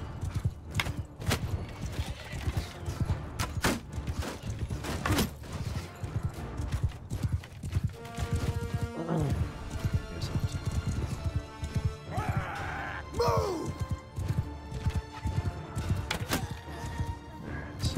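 Irregular thudding hoofbeats of horses clatter throughout, mixed with scattered impacts, and a horse whinnies briefly partway through, in the video game Mount & Blade II: Bannerlord.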